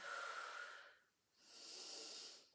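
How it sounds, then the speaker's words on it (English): Two slow, deep breaths during a Pilates child's pose: a long airy inhale, a short pause, then a long hissing exhale, close and soft. "take a couple of really nice deep breaths here"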